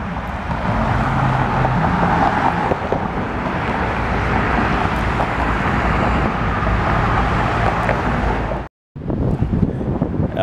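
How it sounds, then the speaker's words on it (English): Steady road traffic rumbles along 8 Mile in Detroit, a continuous loud wash of passing vehicles mixed with wind buffeting the microphone, broken by a brief dropout near the end. "You see the traffic coming and going."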